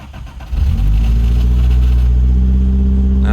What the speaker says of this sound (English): Now the ignition sticks a little bit, but fired up pretty good.